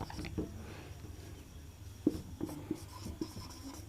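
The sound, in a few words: teacher writing a line on the board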